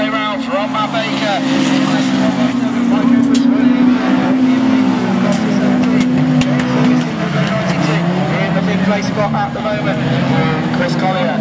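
Autograss race cars in a six-car final on a dirt track, engines roaring loudly and continuously as they lap, with a commentator talking over the racing.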